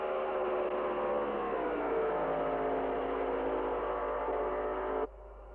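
A 1957 Formula One car at the French Grand Prix, Rouen, accelerates downhill through high-speed curves toward the Nouveau Monde hairpin, its engine a steady, rasping drone with shifting pitch that cuts off abruptly near the end.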